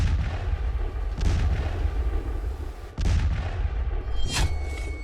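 Artillery and gunfire on the Durand Line border between Pakistan and Afghanistan, two heavy booming blasts about two seconds apart followed by a sharp crack, with a rumbling low background between shots.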